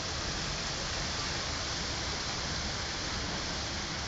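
Floodwater surges down a flooded street on ul. Mikołowska in Katowice, producing a constant, dense, roaring wash of rushing water that holds steady throughout with no pauses.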